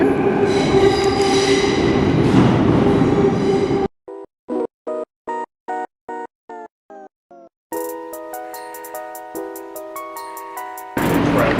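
Inside a moving train in Vancouver: a loud rumbling ride with squealing wheels gives way to a rapid series of regular electronic beeps, then a sustained chime-like tone before the rumble returns.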